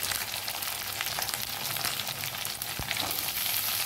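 Red chilli, carrot, onion and capsicum sizzle loudly in hot oil with ginger and garlic over a high gas flame, a dense steady fry with a few sharp spatula clinks, no voices.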